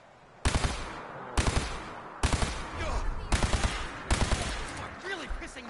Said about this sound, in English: we've got automatic laser pistol